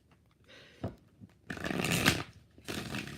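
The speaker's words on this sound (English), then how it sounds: "2 more shuffles." Tarot cards are shuffled by hand in a few rustling, papery bursts, the longest in the middle and a shorter one at the end, close by with quiet gaps between and no voices.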